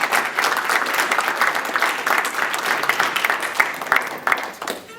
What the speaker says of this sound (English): can we give all our recipients a round of applause for their leadership this year?